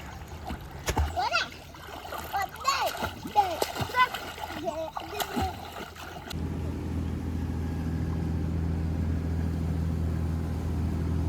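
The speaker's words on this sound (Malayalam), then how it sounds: "പിള്ളേർ വെള്ളത്തിലേക്ക് ഇറങ്ങിയിട്ടുണ്ട് വെള്ളത്തിൽ കളിയാണ്" Children splash and play in village water in Kuttanad, with repeated loud splashes and shouts over about six seconds, followed by quieter ambient water and a low steady rumble.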